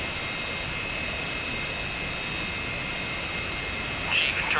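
Steady, even whine of an F-86F Sabre's jet engine idling after start in the DCS World flight simulator, with a constant high tone over a broad rushing roar and a small rise near the end.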